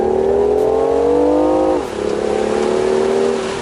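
A 2019 BMW i8 Roadster hybrid sports car revs up loudly close by, its pitch climbing steadily, briefly dropping at a gear change, then rising again with a smooth whirring tone.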